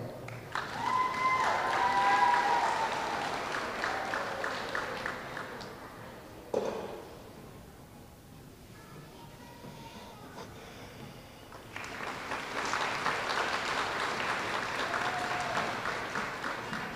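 Applause from the audience at an elementary school awards assembly, honoring fourth grade students, fills most of the stretch as a steady wash of clapping, dips in the middle, then swells again toward the end.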